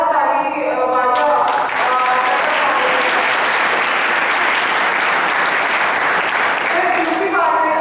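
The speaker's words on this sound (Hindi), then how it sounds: "तो एक बार जोरदार ताली वाजा" Large audience at an inspirational speech bursting into loud, sustained applause that swells quickly and holds steady for several seconds, dense clapping close and enveloping while a speaker's voice talks briefly at the start and end.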